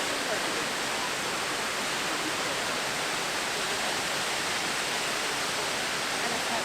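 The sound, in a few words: waterfall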